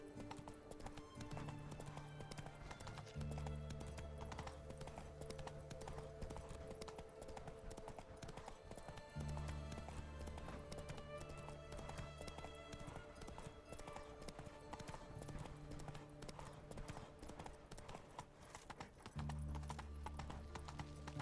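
Roach, a horse in The Witcher 3: Wild Hunt, gallops with rapid, rhythmic hoof clip-clops in steady repeating runs, kept quiet and even throughout.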